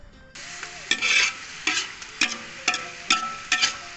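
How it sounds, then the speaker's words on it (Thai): Field eel stir-fries in a wok for a spicy Thai stir-fry, with a sizzling hiss broken by repeated rhythmic scrapes and tosses of a spatula, about one every half second. "ใส่กะทิแล้วก็ผัดต่อไปครับ"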